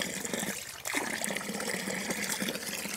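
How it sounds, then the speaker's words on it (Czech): Small stream trickling and gurgling steadily close by outdoors, a continuous light water flow with a brief dip before resuming. "Tady máš ten potůček, kdybys chtěla nějak se osvěžit nebo napít."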